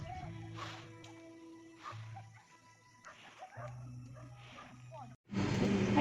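A dog gives several short barks and yips, fairly close, spread across the clip, on a hiking trail, with a steady hum underneath and a sudden loud burst of noise at the end.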